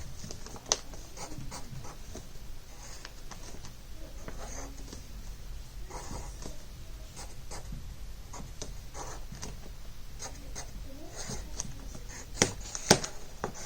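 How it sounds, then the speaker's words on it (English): Marker or chalk drawing a diagram on a board, a steady run of soft scratchy strokes and taps over a faint room hum, quiet and close, with no speech. "So, I'll draw it out again."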